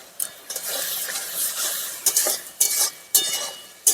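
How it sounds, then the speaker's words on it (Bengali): Masala for a cabbage curry is stirred and fried in a pan, a steady sizzle broken by repeated scraping strokes of a spoon at an uneven rhythm, close and fairly loud, with no voices. "এবার খুব ভালো করে নাড়াচাড়া দিয়ে মশলাটাকে কষিয়ে নেব।"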